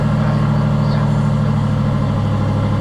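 An Aston Martin V8 idles loud and close with a deep, steady rumble and even throb, alone without voices.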